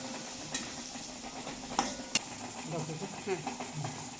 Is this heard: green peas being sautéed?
yes